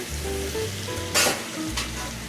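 Peas sizzle steadily in butter in a hot pan, with a brief louder hiss as something is stirred or added partway through.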